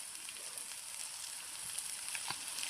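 Okra (ladies finger) frying in a pan over medium flame makes a faint, even sizzle with a few small crackles, fairly quiet and steady, ending in a slight clink.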